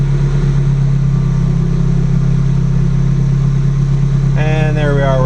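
A Subaru Impreza GC8 engine idles steadily at around 1,000 RPM after a cold start, a constant low hum that runs alone through the whole stretch, joined near the end by a brief high-pitched tonal sound.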